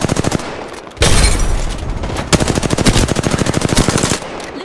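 Rapid automatic gunfire from the Apex Legends video game: dense, loud bursts of shots with a short pause near the start, then sustained volleys of fast, evenly spaced rounds through the rest, with no voices.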